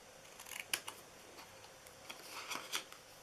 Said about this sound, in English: And then you want to cut up on these.